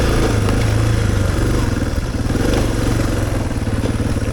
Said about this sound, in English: the DR650 is the perfect bike for this kind of riding